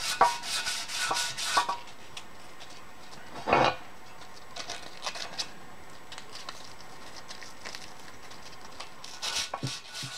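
A generator surface is rubbed and rasped to clear corrosion, giving soft scratchy strokes in short bursts, one sharper scrape partway through, close and fairly quiet with gaps of low hiss between.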